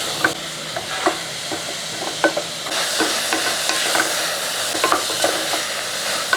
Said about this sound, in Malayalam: ഇതെല്ലാം കൂടെ ഈ കൂട്ടി ഇളക്കി നല്ലപോലെ ഒന്ന് വഴറ്റിയെടുക്കണം